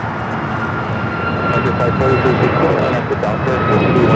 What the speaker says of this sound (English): This is United Airlines 1293 taking off to Houston Intercontinental